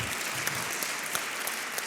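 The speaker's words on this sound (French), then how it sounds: "On peut les applaudir." Steady applause from an audience at an evening mentoring event in January 2025, a dense even patter of many hands clapping with no voices over it.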